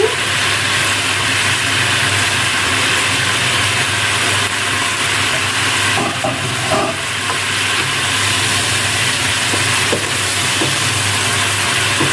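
Hilsa fish frying in a pan with a little oil for ilish pulao makes a loud, close, continuous sizzle and crackle that holds steady throughout, with faint clinks now and then.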